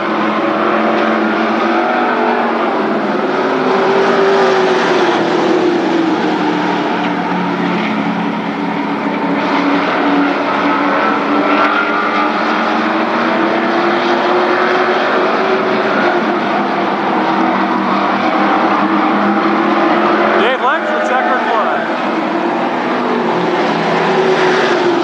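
Late model race cars roar around the oval at Berlin Raceway, a loud continuous engine drone with shifting pitch as the pack passes, never dropping away across the stretch.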